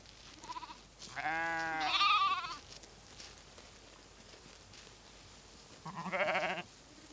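Bohemian Forest sheep bleating in two separate calls, a long wavering bleat near the start and a shorter one toward the end, fairly close, with quiet outdoor background between them.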